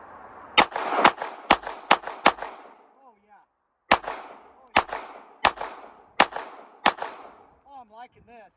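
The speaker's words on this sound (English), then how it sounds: "Now I'm going to shoot some 147 bullets that are my reloads, and they're powder puff loads" A Sig P365X-Macro compact 9mm pistol fires 147 grain reloaded light-powder rounds outdoors: two strings of five sharp, evenly spaced shots, loud and close, separated by a short pause, with faint clinks between strings.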